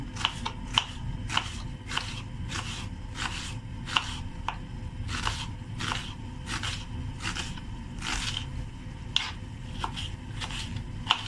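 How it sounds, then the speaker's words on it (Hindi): Onions being chopped quickly on a board for mutton do pyaza, a steady run of crisp knife strikes at a brisk, even rhythm, close and clear, with no talking. "जैसे हम इधर फटाफट से अपने प्याज को कट करते हैं"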